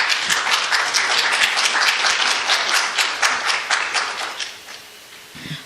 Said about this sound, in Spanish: Fuertes aplausos para ella, por favor.